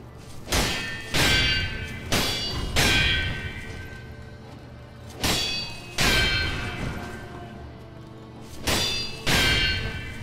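Repeated metallic sword clashes ring out as blades deflect a boss's strikes in Sekiro: Shadows Die Twice, against General Tenzen Yamauchi, coming in bursts of two to four sharp clangs with brief pauses between them.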